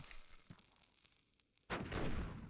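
An explosive blast set off while mining for gold in the MineMogul video game: a sudden loud boom that bursts in after a quieter stretch of small clicks, then rumbles on broad and full to the end.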